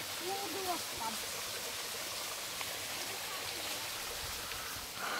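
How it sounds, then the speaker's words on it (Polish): A waterfall near a footbridge in Dolceacqua, Italy, gives a steady, even broadband rush of falling water that fills the whole stretch without letup, with faint voices briefly early on. "Proszę bardzo, wodospad."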